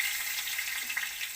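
Spices such as fenugreek seeds, cloves, cinnamon and cumin sizzle in hot oil as a tempering for homemade kadhi, a steady bright crackling hiss at moderate level with a few sharper pops, no talking.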